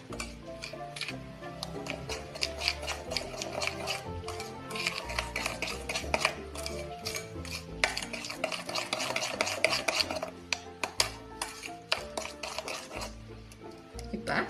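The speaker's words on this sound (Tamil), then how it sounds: "போட்டு இதை நல்லா மிக்ஸ் பண்ணிக்கோங்க." Eggs and sugar are mixed in a bowl for chocolate brownies, with a steady, rhythmic scraping and clinking of the utensil against the bowl, close and continuous.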